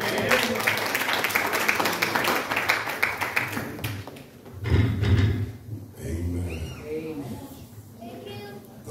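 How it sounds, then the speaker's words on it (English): A church congregation claps for preachers, quick rhythmic hand claps early on that fade as a preacher talks and the room answers, with scattered voices and shuffling. "Clap your hand for the men of God."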